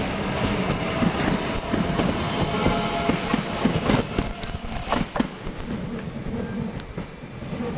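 Train passing through Sevenoaks station, a loud, close rumble with rhythmic clattering of wheels over rail joints and occasional metallic squeals, continuous throughout without voices.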